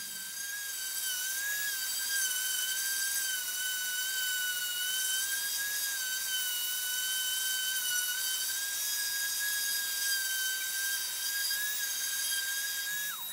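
A random orbital sander smooths excess dye stain off a mahogany guitar body, giving a steady, high-pitched motor whine that holds unbroken for about thirteen seconds with no voices.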